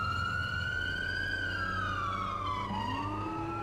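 Police car siren from the video game Responding, a wailing tone that sweeps steadily up and down, loud and continuous, with a second siren tone dipping in near the end over a low engine rumble.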